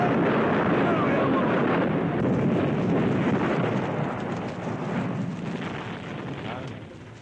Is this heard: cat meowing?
no